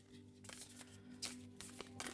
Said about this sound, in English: I love this deck, but I will tell you it is so tricky to shuffle.